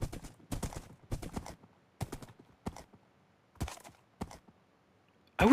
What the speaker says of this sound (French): Ah oui, il court vite, il saute super haut